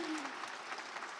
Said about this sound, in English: yes, I agree, we can applaud that